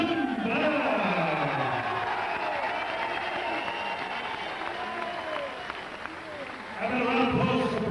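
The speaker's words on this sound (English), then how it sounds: "And a round of applause for Brian Wickliffe." A crowd applauds after a knockout at an OPBF light heavyweight title boxing bout, a broad, steady wash of clapping heard beneath an announcer speaking over a loudspeaker.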